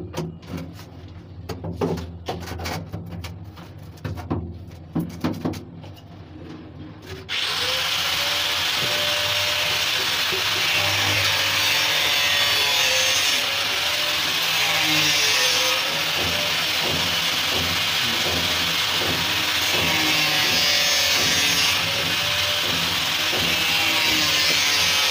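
Hand saw cutting wood for false ceiling wiring: a few seconds of irregular scraping strokes give way to a loud, continuous rasping that runs unbroken to the end, close and alone without talk.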